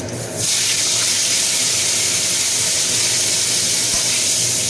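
Panch phoron seeds and mango pieces sizzling in hot oil for a sour dish, a loud steady hiss that bursts in at once and holds unbroken throughout.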